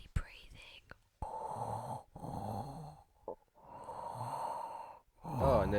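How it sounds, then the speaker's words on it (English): Heavy breathing: several slow, loud, breathy inhales and exhales in a regular rhythm with short pauses between, close to the microphone. "Heavy breathing."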